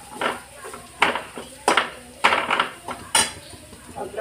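Ground masala paste being mixed with turmeric in a metal pot, a spoon scraping and knocking against the sides in about six uneven strokes, close and fairly loud, with no talking.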